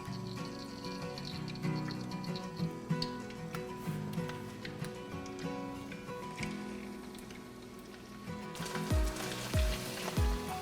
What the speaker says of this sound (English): I'm gonna go ahead and add the potatoes and the carrot mix